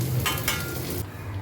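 Mango pachadi with salt, neem flowers and fried buttermilk chillies bubbles in a pan, giving a brief, close sizzling simmer with a faint stirring scrape.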